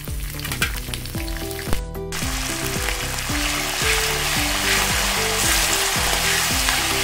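Peanuts and curry leaves frying in hot oil for a flattened-rice (atukula) mixture: a steady, loud sizzle with repeated rhythmic scraping clatters of stirring, a brief sharper crackle early on, and no talking.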